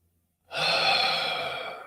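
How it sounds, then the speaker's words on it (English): A single deep breath taken in unison during a guided evening prayer session, a soft rushing inhale that swells after half a second of silence and holds steady before slowly easing off, with no talking. "Let's take a breath together."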